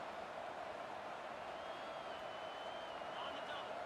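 Crowd noise swells steadily in an American football video game as fans roar behind the defense on third down, a dense, continuous wash of cheering with a commentator talking over it.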